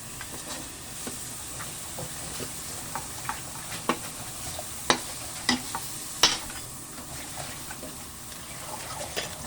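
Pork bones frying in their own rendered fat for a boiled bone soup, a steady close sizzle with scattered crackling pops and occasional stirring clinks throughout.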